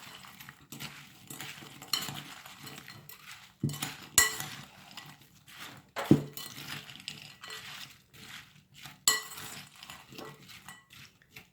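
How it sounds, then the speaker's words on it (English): Chopped celery and walnuts are stirred into a bowl with apples for a Waldorf salad, a series of light scraping strokes punctuated by irregular metallic clinks of a utensil against the bowl, close and fairly quiet. "you're going to add your celery and the walnuts and just mix that"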